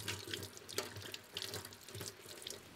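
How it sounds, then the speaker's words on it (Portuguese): Herb leaves, including mint, aconite and other medicinal greens, are washed under a running tap at a sink, with a steady stream of water splashing and shifting for a few seconds, close and fairly loud, with no talking. "Colhe-se as folhas, lava-se bem lavadas."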